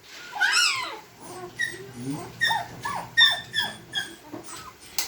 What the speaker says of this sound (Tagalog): Saan ba tumatahol dyan yung brown?